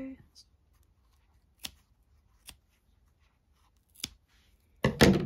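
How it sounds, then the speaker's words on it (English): Scissors snip short yarn tails from a small crocheted amigurumi figure. Four separate crisp cuts sound close up in a quiet room, spaced about a second apart, the last one louder and rougher. "I'll do the same thing with this little yarn tail as well from the beginning. And then I'm just going to snip those."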